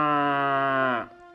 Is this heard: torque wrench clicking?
no